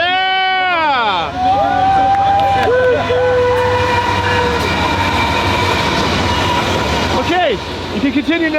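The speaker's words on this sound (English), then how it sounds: "Here comes the train!" A train rumbles loudly past nearby while its horn blares in long, bending tones, with excited shouting and cheering over the noise.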